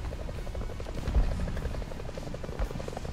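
A propeller aircraft flies overhead in the War Thunder combat game, a steady droning, throbbing engine hum that holds at an even level for the whole stretch with no speech.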